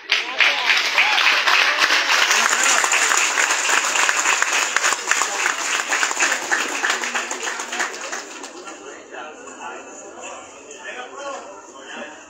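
A community crowd applauds newly sworn neighborhood committees at a recognition ceremony with sustained dense clapping that slowly thins and fades over about twelve seconds, with some voices mixed in.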